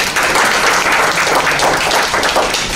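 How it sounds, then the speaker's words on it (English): Steady round of applause from a meeting audience, dense continuous clapping at close range, holding evenly throughout without breaks. "There is a round of applause."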